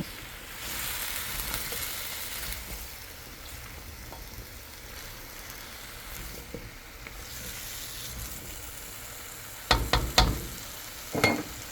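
Pineapple chicken sizzling in a pan, a constant crackling fry that carries on alone, broken near the end by a few sharp clatters of stirring against the pan.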